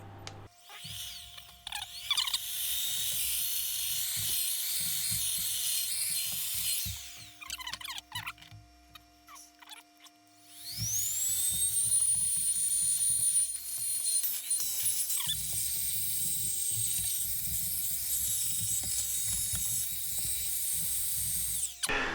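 An electric air blower clears dust out of a desktop computer, its motor whining and spinning up to a high steady pitch in close bursts separated by short mechanical clicks and pauses.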